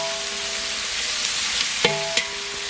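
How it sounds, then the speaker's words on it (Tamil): Onions sautéing in hot oil with salt for Tamil-style tomato or lemon rice, giving a steady broadband sizzle with two brief stir or scrape accents near the end, no voices. "வெங்காயம் நல்லா வதங்குறதுக்கு உப்பு சேர்த்துக்கலாம்."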